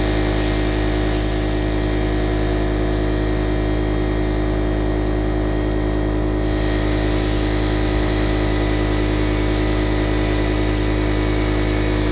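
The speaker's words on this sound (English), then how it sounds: "now I can put air in it" Compressed air hisses steadily into a lawnmower tire's inner tube for the whole stretch, loud and close, over a constant hum with a few short bursts of higher hiss.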